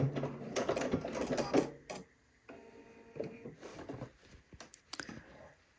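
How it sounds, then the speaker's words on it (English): A sewing machine runs a straight stitch through swimsuit elastic in short, rapid bursts of mechanical clatter, with quiet pauses between the runs. "And this is a straight stitch. We're just going to sew until we've sewn through that elastic."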